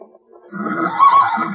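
A pony neighs as a radio drama sound effect, a single close, loud whinny rising and wavering for about a second out of near silence.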